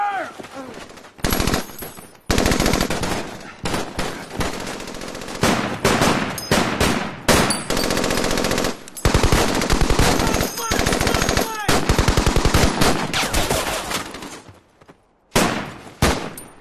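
Sustained machine-gun covering fire in a WWII battle film, long loud bursts of rapid automatic gunfire with brief gaps, mixed with shouting soldiers.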